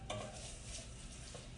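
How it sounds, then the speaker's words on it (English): Rice being stirred in a pan with onion, butter and olive oil, a faint low scraping and gentle sizzle, quiet and continuous with a small clink near the start. "Just going to mix this till all the grains of rice are covered with the onion, butter, olive oil mixture"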